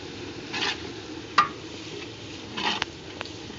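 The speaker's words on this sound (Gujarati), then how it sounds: "આમાં નાખી દીધા છે સૂકી ભાજી બટેટા" Potatoes being cooked into dry bhaji, a low steady sizzle in a pan with a few sharp clinks and scraping stirs of a spoon against the vessel.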